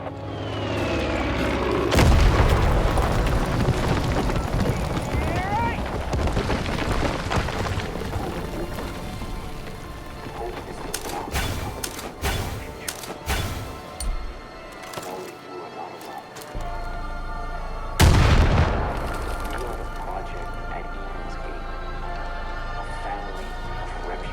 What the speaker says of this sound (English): Bombs on its way.